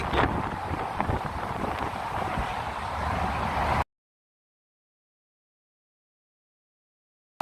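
Strong wind buffets the microphone on the Golden Gate Bridge on a foggy day, a steady low rumbling roar for about four seconds before cutting to silence.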